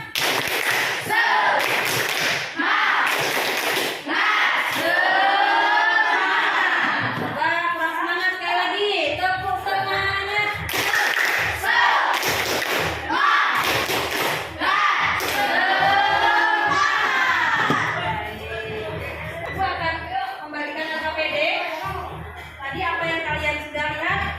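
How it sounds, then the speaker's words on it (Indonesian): A class of children doing a rhythmic spirit clap: loud, patterned bursts of group clapping mixed with chanting voices, close and continuous, with children speaking and calling out throughout. "Tepuk semangat."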